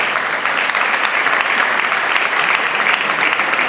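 Audience applause at a book presentation, a dense, steady wash of clapping from many hands filling the room at close range, loud and unbroken throughout.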